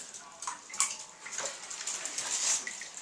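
Water sloshing and splashing in a bathtub while a small dog is bathed, with bright irregular splashes over a steady watery wash close by and no talking.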